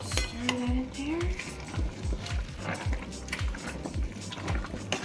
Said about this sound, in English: We're gonna stir it in